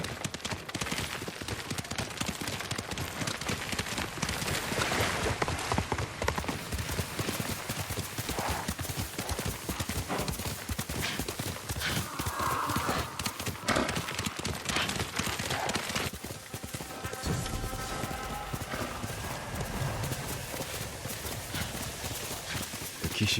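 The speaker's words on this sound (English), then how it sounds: "You're a good horse, Nick." A horse gallops in the video game Ghost of Tsushima, a steady rapid clip-clop of hooves lasting throughout, close and continuous over a dense game soundscape with a brief whinny.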